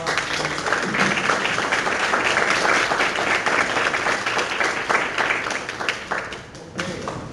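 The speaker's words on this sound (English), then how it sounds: "Just give them a round of applause." An audience at a board workshop gives sustained applause, a dense wash of many hands clapping steadily for several seconds before gradually thinning toward the end.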